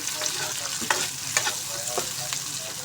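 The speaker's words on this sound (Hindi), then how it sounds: "बस इसको भी हल्का सा हमने फ्राई करना है ताकि जो टमाटर भी है इसका कच्चापन दूर हो जाए" Tomato sizzles and crackles in a hot pan for chicken aloo shorba while a utensil stirs and scrapes a few times, a steady close frying sound.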